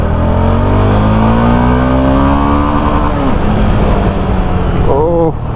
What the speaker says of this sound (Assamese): কি দিছে RPM চাউণ্ড